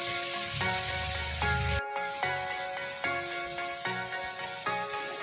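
Steady sizzling hiss of grilled pork in an air fryer, with background music playing throughout; a brief silent gap near the middle before the sizzle resumes.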